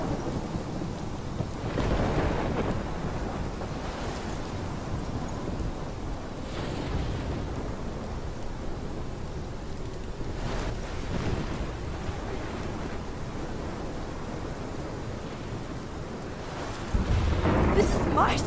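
Stormy wind and crashing waves from the video game Life is Strange form a continuous loud roar with heavier surges around the second and eleventh seconds and a final swell at the end.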